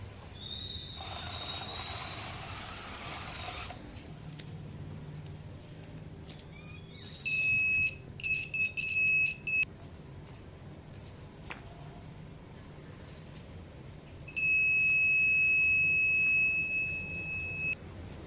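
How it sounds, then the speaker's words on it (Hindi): A buzzer on an ultrasonic security robot sounds in two bursts: a stuttering run of short, shrill beeps, then a longer continuous high-pitched tone later on, over a low background hiss. "ये जो बज़र है वो बजना स्टार्ट कर देता है"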